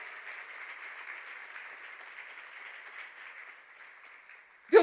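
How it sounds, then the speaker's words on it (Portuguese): A church congregation applauds during a sermon. The clapping is soft and distant, a steady hiss that ends with a sudden close thump. "pode aplaudir o Senhor pela sua promessa, pela sua fidelidade"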